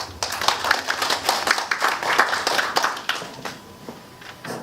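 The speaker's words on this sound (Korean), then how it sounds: "오늘 강의해 주실 청장님 뜨거운 박수로 맞이해 주십시오." An audience claps to welcome a Korean environment ministry regional office head before his lecture on environmental policy. The applause is fairly close and moderately loud, rising quickly and then thinning over the final seconds.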